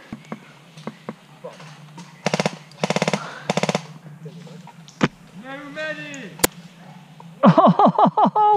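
Airsoft gun shots ring out in short rapid bursts, three clustered volleys and then another flurry at the end, sharp and near, with speech in between.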